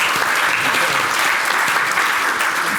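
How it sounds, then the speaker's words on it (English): Steady, dense applause from an audience welcoming a visiting guest at a St Vincent's hospital event, sustained and fairly loud throughout with no talk over it. "Give a round of applause."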